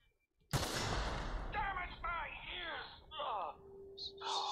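A single sharp gunshot fired at crates in the video game The Outer Worlds bursts out loud after a brief silence, followed by game effects and ringing tones.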